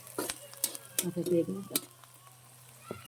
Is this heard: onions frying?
yes